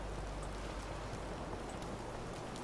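Rain falls in the video game In Sound Mind, a continuous dense hiss of raindrops at moderate level with no voices.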